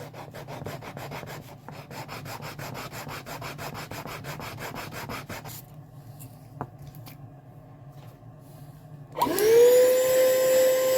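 A guitar fingerboard inlay is sanded by hand with fast, rhythmic back-and-forth rubbing strokes, close up. After a quieter pause a loud vacuum or power tool starts up and whines steadily to the end.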